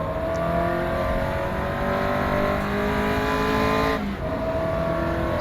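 Caterham race car engine in rFactor 2 holding a loud, sustained high rev, pitch rising and then dipping sharply as it shifts before climbing again, with no talk over it.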